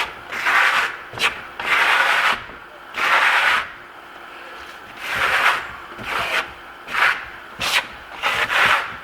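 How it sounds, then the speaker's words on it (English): A trowel scratching across Marmorino plaster on a wall, rasping strokes in repeated bursts of about a second each with short pauses between, close and loud. "it'll be hard for you to hear me over top of all this scratching sound"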